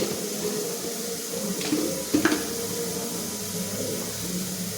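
Water poured into spices in a cooking pan gives a steady close hiss and gurgle throughout, with a couple of brief splashing bursts near the middle.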